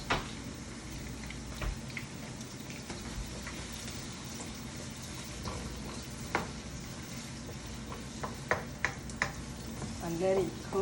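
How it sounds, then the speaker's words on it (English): Onions sizzle in hot oil left over from frying beef for a stew, a steady broadband frying hiss with scattered stirring scrapes and small clatters, fairly close and continuous. "in the same oil that I fried my meat, I'm going to add my onions"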